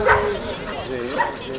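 A young puppy, a few weeks old, yips and whimpers in short high bursts close by, mixed with a person talking.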